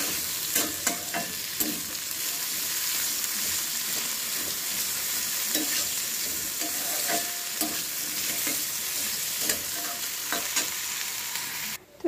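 Potatoes frying in a pan, a dense steady sizzle with occasional spatula scrapes and clinks, close and moderately loud throughout, cutting off abruptly at the very end, with no speech.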